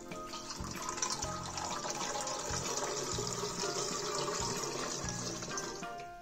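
Water poured steadily from a container into the large tank of a Kyvol Vigoair HD3 cool mist humidifier, a loud continuous splashing and gurgling fill lasting throughout, with no talk.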